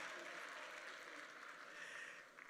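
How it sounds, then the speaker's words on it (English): A graduation audience gives a round of applause in a large gathering, with faint, distant sustained clapping from many people. It fades slightly toward the end. "Round of applause."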